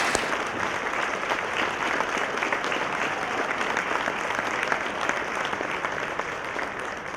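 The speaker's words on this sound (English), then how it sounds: "If you'd stand up so we could give you a round of applause also." An audience at a city's State of the City address applauds students and staff with a steady, dense burst of clapping that holds at an even level for about seven seconds without speech.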